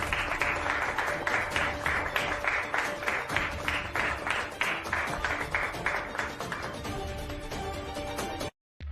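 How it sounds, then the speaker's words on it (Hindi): Indoor gathering at a Diwali gift-giving ceremony, a steady rhythmic round of clapping from a group, moderately loud and even, fading out near the end and followed by a brief silence. "तालियां तालियां तालियां"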